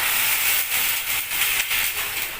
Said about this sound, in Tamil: நல்லா கொதிக்கட்டும் தண்ணி